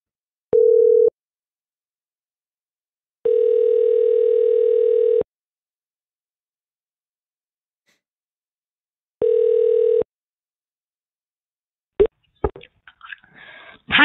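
A telephone line plays its tones while a call is placed to a support number: a short steady tone, then a long one and another medium one with gaps between. A voice and line noise start up at the very end.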